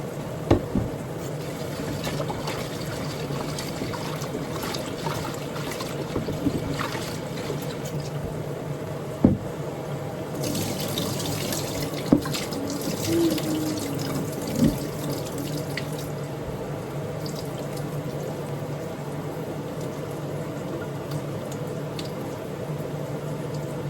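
Tap water running in a kitchen sink while frozen mutton is washed by hand, a steady close faucet stream with occasional sharp clinks and squishy handling sounds throughout.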